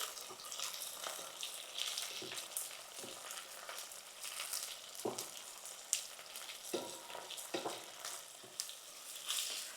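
Chili and tomato are frying with softened onion in a pan, a soft continuous sizzle with irregular crackles and brief stirring scrapes, fairly faint and close, no voices.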